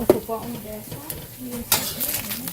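Meat with oregano being stirred in a pan, soft scraping and a light sizzle close by, with brief clinks of the utensil; a voice speaks over part of it.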